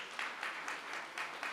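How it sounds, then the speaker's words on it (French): Faint applause for a musician at an evening event, a small audience clapping softly in a steady uneven patter, distant and low in level with no voices on top. "Je vous demande d'applaudir très fort"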